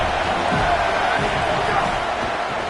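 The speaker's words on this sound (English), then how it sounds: "This crowd trying to make life miserable for this offense." A football stadium crowd roars in a dense, steady wash of noise during a Penn State versus USC game, with commentary voices faint beneath it.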